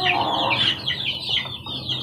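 Hens raised from chicks cluck steadily close by, a busy layered chatter of several birds that stays loud and continuous throughout.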